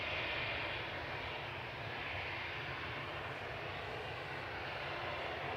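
A Brussels Airlines Airbus A319 departing Manchester Airport makes a constant, heavy jet-engine roar, dense and unbroken, heard from a distance at a fairly even loudness.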